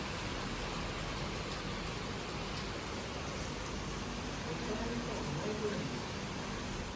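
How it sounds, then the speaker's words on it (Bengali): Heavy rain pouring down during an outdoor picnic, a dense, even hiss of falling water that stays steady and moderately faint for the whole stretch with no breaks. "কি বিচ্ছিরি বৃষ্টি হচ্ছে।"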